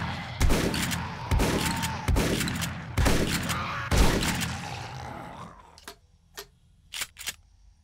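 Five heavy gunshots boom at a steady pace, each with a ringing tail, followed by a few quieter clicks and mechanical clacks, in the video game 7 Days To Die.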